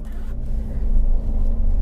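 A 2015 Toyota Avanza with a 1300 cc VVT-i engine driving along, a steady low rumble inside the car, close and even throughout.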